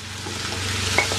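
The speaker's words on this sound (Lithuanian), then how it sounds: "Pamaišant ant didelės ugnies, jeigu kepat. Labai reikia maišyti pastoviai." Broccoli stir-fries in a pan over high heat, a brief, even sizzle with one faint scrape of stirring near the end, close up and without talk.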